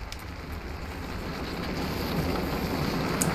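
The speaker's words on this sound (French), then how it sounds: "On a le vent dans le dos." Wind rushing in the Torino 2006 ski jumping video game on PS2, a steady, full-bodied whoosh that swells gradually louder over its few seconds with no talking.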